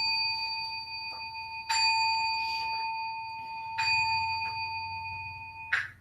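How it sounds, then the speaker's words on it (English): A small bell is struck three times to close a Zen dharma talk, each ring clear and sustained, fading slowly before the next strike, with quiet room sound between. "Who's got the bell? There we go."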